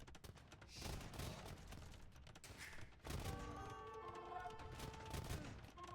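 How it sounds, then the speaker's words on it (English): Hand cannons fire in a battle in the video game Age of Empires II: a rapid, dense run of booming shots and thuds, with a louder burst midway and battle sounds continuing underneath. "The hand cannons putting in that hard-hitting attack."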